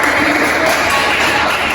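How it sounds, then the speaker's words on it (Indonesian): Brief round of applause for a student in a math class session, a short, loud, dense burst of clapping filling the whole moment, close by and unbroken. "tepuk tangan buat Mas Fajar"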